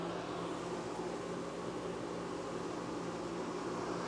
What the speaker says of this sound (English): turn the blower on